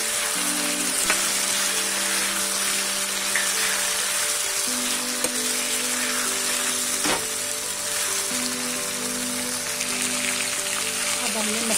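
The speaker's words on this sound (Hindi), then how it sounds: "अब हम पपीते को डालेंगे। अच्छी तरह से मिक्स कर लेंगे मसाले में।" Raw papaya cooked with spices in a hot pan, sizzling and frying loudly and steadily throughout, with occasional stirring knocks and a low background hum.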